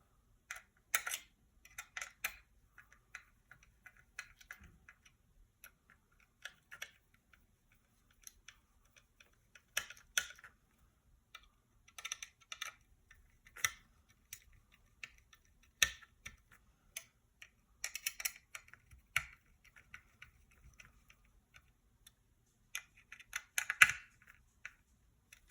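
Small screws being tightened on a Fanhome Robocop model kit, producing faint, close ticking and clicking taps that come in scattered irregular clusters over near silence, with no talk.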